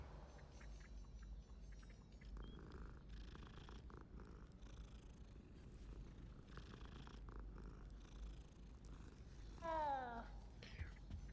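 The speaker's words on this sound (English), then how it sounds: "That's another kitty." A cat purrs in the Hogwarts Legacy video game, a steady low rumble running throughout beneath a muffled ambient game bed, with a brief chirpy sweeping sound near the end.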